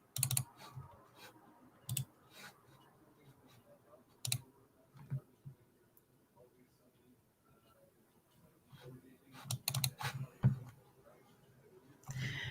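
Computer keyboard typing at a home desk: scattered bursts of quick clicking keystrokes with pauses between, faint and close, with quiet background room noise.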